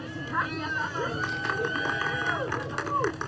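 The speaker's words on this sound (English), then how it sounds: "Some thunderous applause is always a good sign." Crowd applause and cheering at the Blue Origin landing site as the crew leaves the capsule after a space tourism flight, dense clapping under voices, with a sustained tone running through it.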